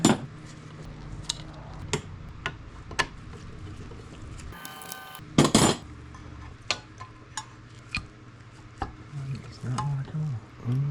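Screws are worked loose and the air intake cover lifted off a rare fuel-injected 1962 Corvette, giving sharp metallic clicks and ticks at irregular intervals, a brief rattling clatter midway, close and unaccompanied by talk.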